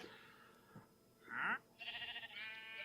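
A Minecraft sheep bleats in a short, wavering cry, followed by a second, longer bleat, both faint and alone.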